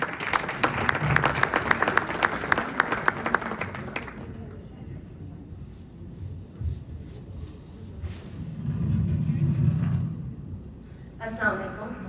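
An audience at a women's Urdu poetry recital in Los Angeles gives a strong burst of applause to welcome a poet, then settles into a low murmur and shuffling.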